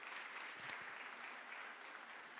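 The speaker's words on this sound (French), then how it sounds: "On peut les applaudir tous les 4." Audience applause closing a round-table discussion at a conference on ageing and society, a steady, fairly faint wash of many hands clapping at a distance, with no voices over it.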